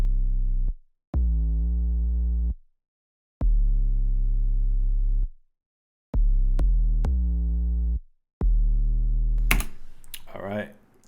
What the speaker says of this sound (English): just a regular 808 driven, have a little bit of crush, a little bit of drive